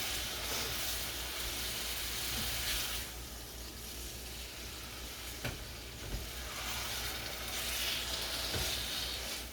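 A steak sizzles in an evenly hot pan, a steady broadband frying hiss running throughout with a few small crackles and pops, close and fairly quiet, with no talking.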